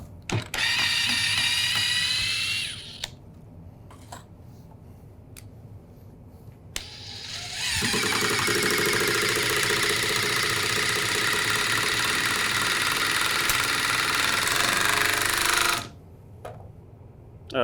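DeWalt 20V MAX XR impact driver driving a screw in two bursts, a short one and then a longer, loud, steady rattling whir, with quiet pauses between them and no talk.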